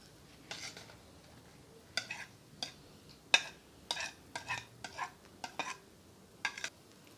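Garlic, onion, salt and green and red chillies tipped into a pot for sarson ka saag, heard as a series of separate soft clinks, scrapes and thuds of spoon against pot in a quiet room.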